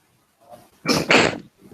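A single loud, close sneeze in two bursts, preceded by a short intake of breath.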